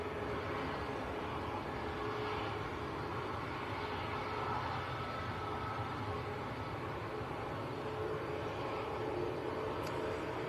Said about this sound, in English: This is a Ryanair to Budapest.